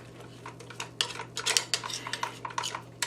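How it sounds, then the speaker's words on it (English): A metal spoon scrapes and clinks quickly against the side of a mixing bowl, working dry pancake mix loose in a run of sharp, close scraping strokes. "get a spoon and just scrape all the dry mix off of the side of the bowl"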